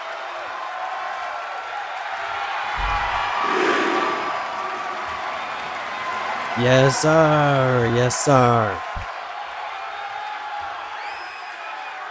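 Wrestling crowd at the ECW Unstoppable show, with Zilla Fatu and Jey Uso on the card, gives off a steady roar of cheering, swelling twice and rising with chanting, while voices shout over it.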